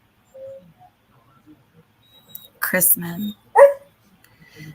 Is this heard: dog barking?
yes